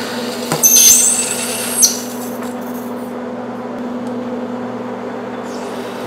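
A manual metal lathe takes a light cut on a shaft coupling for a homemade sawmill, a steady motor hum with a brief scraping burst near the start, then an even whirring drone that continues without talk.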